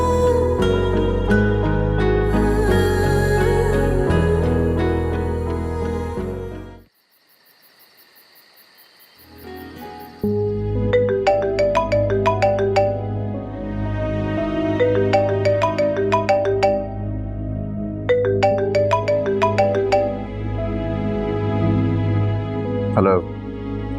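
A melodic phone ringtone plays loudly, breaks off briefly into near silence, then resumes with bright repeating chimes.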